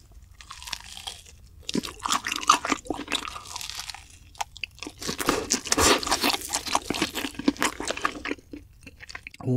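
Close-up crunching and chewing of crisp fried cheese balls, bursts of bites separated by brief pauses.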